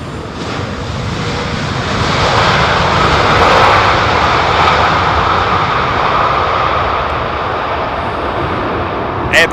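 A loud, sustained airliner engine roar as a plane comes in to land at London Heathrow Airport in gusty wind, swelling to a peak midway and staying strong to the end, with no talk.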